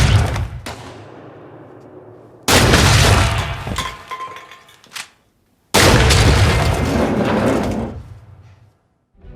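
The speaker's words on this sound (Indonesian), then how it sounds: "Mendengar suara tembakan itu, Reika dan murid lain pun panik" Shotgun blasts in an animated film set in a school, two heavy booming bursts that each ring out and decay, separated by a quieter gap and preceded by a sharper crack.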